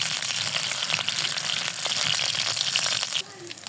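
Chopped garlic fries in hot oil with a steady, close sizzle and crackle, the bright hiss cutting off near the end with a brief clink.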